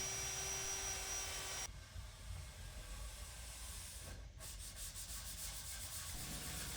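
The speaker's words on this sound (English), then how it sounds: "now we are on to sanding and finishing and rounding over the edges" A sander runs continuously with a steady, loud hissing rub across a wooden oval tabletop, dropping in tone partway through and carrying on close to the microphone with no talk.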